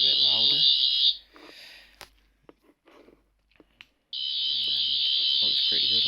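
A limited edition 14th sonic screwdriver toy on its louder green setting gives off a piercing, steady electronic whine that cuts out after about a second and returns loud and sustained near the end, with faint handling noises in the gap.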